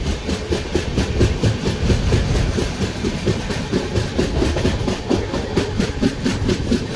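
A train runs along a line past standing local trains on a Kolkata-to-Puri route, its steady, loud clickety-clack beating in a quick regular rhythm with a continuous low rumble for the whole stretch.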